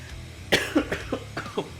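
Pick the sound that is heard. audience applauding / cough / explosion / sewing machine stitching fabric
cough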